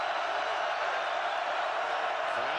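Steady, dense roar of a large football stadium crowd during a Texas A&M vs Kansas game, a continuous loud wash of voices and noise with no breaks.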